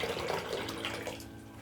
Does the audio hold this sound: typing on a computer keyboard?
no